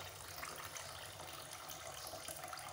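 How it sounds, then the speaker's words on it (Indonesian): Water runs and splashes steadily in a kitchen sink as rinse water drains off freshly washed cabbage, a continuous close gush with no voices. "Jadi kita cuci airnya, tiriskan dulu pelan-pelan sampai dengan tiris ya"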